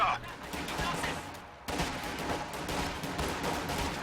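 Machine gun and mortar fire in the real-time strategy game Company of Heroes 2 crackles in steady bursts of gunfire with a sharp shift midway, continuous and fairly loud, battle noise filling the whole stretch.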